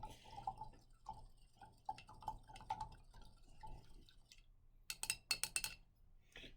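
Baking soda being stirred into a glass of water: faint, irregular clinks and small liquid drips from the spoon against the glass, growing into a brief cluster of sharper taps near the end, with no talking.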